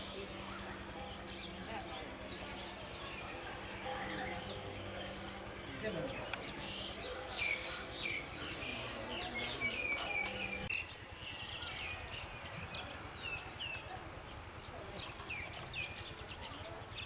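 Small birds chirp faintly in the distance outdoors in Myanmar, brief high tweets scattered over a steady wash of insect and ambient background noise.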